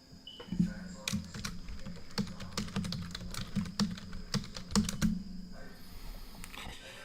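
Rapid clicking keystrokes on a computer keyboard sit close beneath a microphone, an irregular clatter of taps running for several seconds with no talk.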